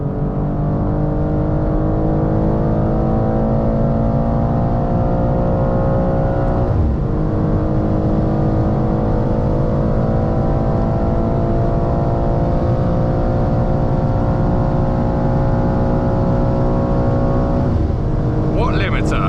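A BMW M2 G87 is revved hard with no limiter cutting in. The loud, sustained engine note climbs steadily in pitch and stays strong for the whole stretch.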